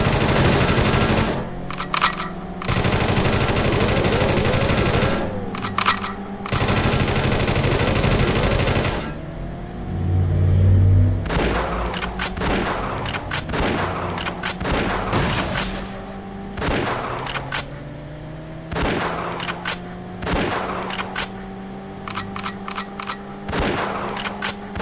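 Machine gun fire in the PS1 game World's Scariest Police Chases, loud rapid bursts repeating over a steady engine and siren drone, with rhythmic clattering volleys throughout.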